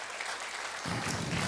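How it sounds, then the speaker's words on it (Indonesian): Congregation applauding in a church service, a steady wash of clapping that swells louder and fuller partway through, with a faint voice underneath at first. "Tepuk tangan yang paling meriah."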